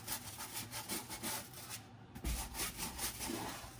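A small brush scrubs the soles of a shoe in rapid back-and-forth strokes, a dry, rough rubbing that runs steadily with a brief pause midway, close and fairly loud.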